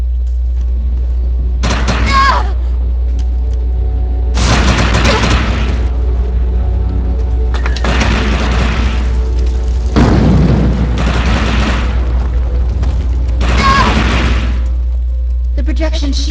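Overcharged weapon shots and explosions in Defiance land as several separate booming blasts spaced a few seconds apart, each with a short rumbling tail, while a voice talks in between.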